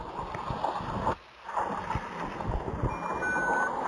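Bus reversing beeps from Bus Simulator Ultimate sound as a steady string of electronic tones over a low engine rumble, with a short break partway through.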